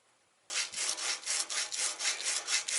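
Steady back-and-forth abrasive scrubbing of paint off a copper pipe, a rhythmic rasping stroke repeated about twice per second, close by.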